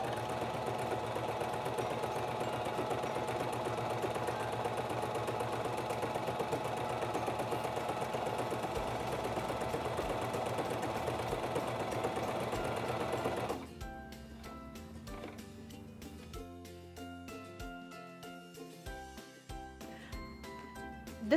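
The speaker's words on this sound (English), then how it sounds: "Now I want to sew a slant over edge stitch" A SINGER 2273 Esteem II sewing machine runs a slant overedge stitch in a fast, steady mechanical whir for about thirteen seconds, then stops and gives way to quieter clicks and handling noises.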